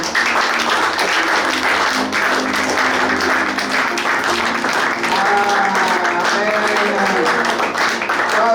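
A church congregation applauds continuously, a dense loud wash of clapping with voices and cheering mixed in throughout.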